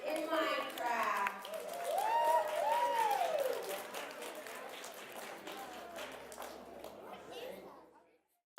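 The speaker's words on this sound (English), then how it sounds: "I need you to applaud. I need you to clap. I need you to cheer" Audience applause and cheering for a master coder at an International Night of Code STEM event, a sustained wash of clapping with some crowd voices, under a voice that rises above it early, fading out near the end.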